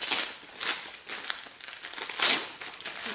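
Crinkly wrapping paper rustles and tears in several bursts as a soft, squishy Christmas present holding socks is unwrapped close by, without talk.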